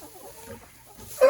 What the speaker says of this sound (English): So we got a lot of new hens here